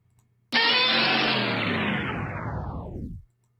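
A loud Godzilla-style monster roar erupts abruptly, then its pitch sinks steadily downward as it slows with a tape-stop effect, ending in a low growl that cuts off sharply.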